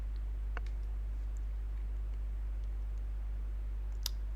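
A computer mouse clicks on an add-to-workbook icon in a French web dashboard: two faint, sharp clicks, one early and one near the end, over a quiet, steady room hum.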